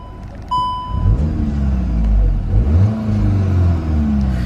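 A VW GTI MK8 engine idles low and steady with a brief tonal chime at the start, then rises in repeated revs of the exhaust, close and fairly loud, with no talking.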